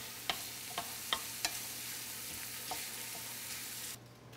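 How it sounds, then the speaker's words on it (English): Shallots sautéing in a pan give a continuous soft sizzle, with a few sharp utensil taps near the start, before the sound drops away near the end. "we've added our shallots to our pan and we're sauteing them for about 3 to 4 minutes until they are translucent"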